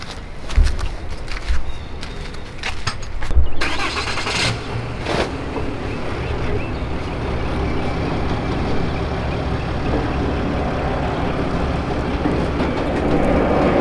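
A pickup truck towing a hotshot trailer rumbles steadily as it pulls forward, with a few clunks and rattles at the start before a constant, loud engine and road drone.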